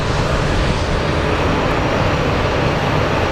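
Loud, constant roar of an American Airlines A319 jet airplane at an airport, unbroken and close.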